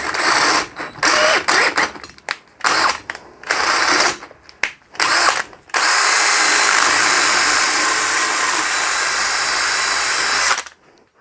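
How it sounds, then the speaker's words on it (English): A tapping drill cutting a thread into metal during a steam engine restoration. Loud close grinding whirs come in several short bursts, then one sustained run of about five seconds before it stops, with no talk. "Right, so that's a tapping drill."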